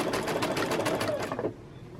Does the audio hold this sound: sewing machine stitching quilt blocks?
yes